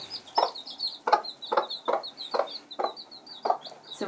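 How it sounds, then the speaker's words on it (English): A free-ranging mother hen clucks to her chicks to call them to food, giving a steady run of low, close clucks about twice a second while the chicks' faint high peeps go on behind. "That call she's doing right now is telling them that she has food for them."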